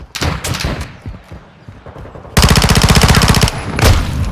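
Gunfire in the video game Modern Warfare II starts as scattered single shots, then breaks into a loud sustained automatic burst followed by a shorter burst.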